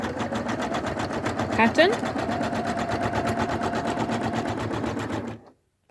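An embroidery machine stitches an in-the-hoop zipper bag pattern, a loud rapid steady needle chatter running close for about five seconds before stopping abruptly, with a brief spoken word at the start.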